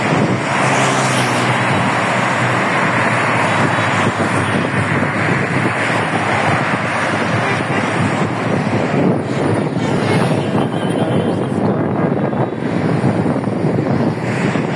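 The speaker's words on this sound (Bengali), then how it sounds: "প্রচুর বাতাস। আপনারা আমার মনে হয় সাউন্ড পাচ্ছেন, প্রচুর বাতাস।" Strong outdoor wind roars and buffets the microphone in a loud, steady, unbroken rush that lasts the whole stretch, with no one talking over it.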